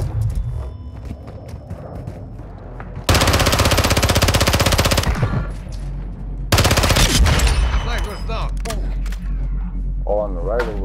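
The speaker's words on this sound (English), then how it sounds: "Somebody's over here shooting." Rapid automatic gunfire in a combat video game, two long loud bursts with scattered single shots and effects between them, mixed with player talk.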